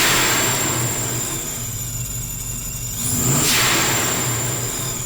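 Supercharged Impala with a TorqStorm blower, engine held at moderate revs then eased off, a steady loud drone with a high supercharger whine and a rising swell of intake rush near the end.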